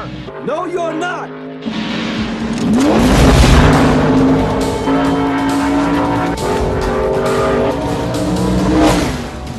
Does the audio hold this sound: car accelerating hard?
yes